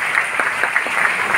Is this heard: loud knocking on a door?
no